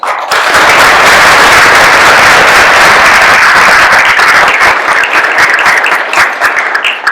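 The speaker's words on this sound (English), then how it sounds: "please join me in a round of applause" A lecture audience at a university event breaks into loud, dense applause that fills the room at full strength for several seconds, then thins slightly with a few scattered claps near the end.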